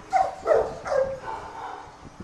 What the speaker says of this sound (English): it's my handsome baby dog.